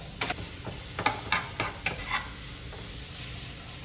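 Vegetables tossed in a pan with garlic, giving a soft steady sizzle under a series of sharp stirring scrapes and taps in the first two seconds, then quieter frying.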